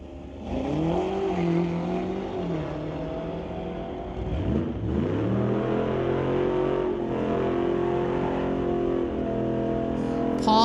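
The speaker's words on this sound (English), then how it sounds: "Going against Paul Reagan in the 2019 BMW M5 from Calgary." Drag race at a street-legal event, a 2017 Camaro against a 2019 BMW M5, with engines revving loudly and continuously and harmonic tones rising and falling through gear changes, a strong sweeping surge midway.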